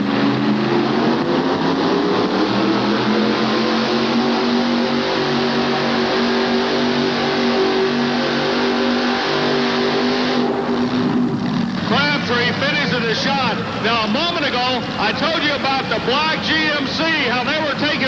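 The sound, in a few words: pulling truck engine revving while pulling the sled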